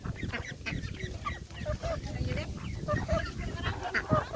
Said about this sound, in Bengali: আর এই হচ্ছে মুরগি।